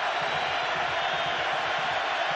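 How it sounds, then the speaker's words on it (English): Football stadium crowd at the 2003 Oregon-Michigan game roaring steadily to help the defense, a dense, sustained wash of cheering from a distance with no breaks. "Crowd trying to help the defense here"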